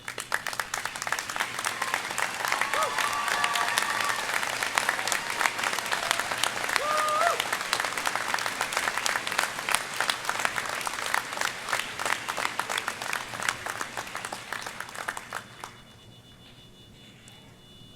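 Faculty and staff at a 198th university commencement for the School of Business and Graduate Studies give sustained, dense applause from a large crowd, steady for about fifteen seconds before abruptly dropping to a quiet room.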